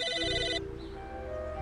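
A telephone rings in the video game Psychonauts, a steady electronic ringtone trill that cuts off and gives way to a lower sustained tone, clear and fairly loud with no talk.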